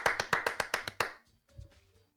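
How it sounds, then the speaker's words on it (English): Several sharp hand claps in quick succession, about eight crisp slaps in a steady rhythm, close and fairly loud, followed by a brief faint pause and some soft low rustling. "clapped his hands together."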